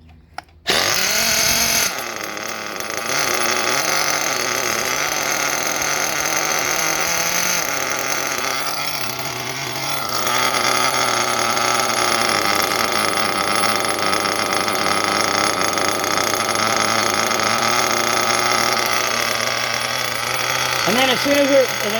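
An RCR-modded B5 RC car's nitro engine runs at a steady, buzzy idle, loud and close, after a sharp start at the beginning, with the high-pitched rattle continuing unbroken for the whole stretch.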